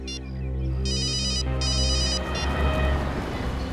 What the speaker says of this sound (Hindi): मैं जरा दया को फोन करता हूँ